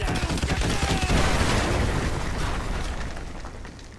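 Danger-close artillery strike in Modern Warfare 2, a loud, close barrage of blasts that crash together into a dense roar and slowly fade.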